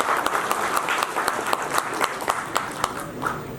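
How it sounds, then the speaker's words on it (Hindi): An audience at an address to Coal India executives claps continuously, with sharp individual claps standing out over a steady wash of applause for a few seconds. "ताली बजाना नहीं है"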